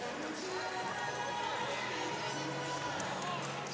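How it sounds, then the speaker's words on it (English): A high school basketball crowd in the Fannin County versus Pickens tipoff tournament murmurs steadily in a gym, with squeaks and footsteps faintly mixed in the constant background. "Good crowd on hand here tonight."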